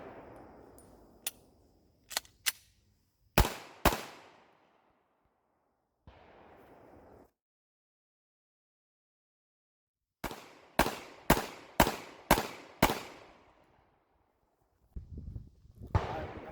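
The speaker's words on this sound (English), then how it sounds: "All right, so we're gonna do another mag. All right, we got another about 10 rounds in here." 9mm pistol fire from a Glock 19 or Taurus G3C loaded with 115-grain round-nose Midwest ammunition: a few scattered shots and a close pair, then a quiet gap, then a rapid string of six sharp, loud reports with short decays.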